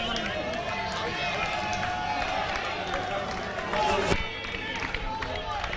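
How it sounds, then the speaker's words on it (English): A cricket team cheers its bowler at a local league match: a steady wash of shouting and crowd noise throughout, with a brief louder swell just after the midpoint. "His team cheering him on."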